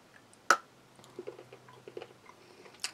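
A 60% cocoa chocolate bar gives one sharp, crisp snap up close, followed by a few faint small crackles and ticks in an otherwise quiet setting.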